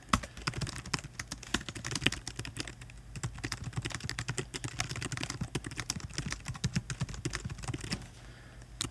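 Rapid, steady typing on a computer keyboard, a dense stream of close clicks and clacks with a low hum underneath and no speech.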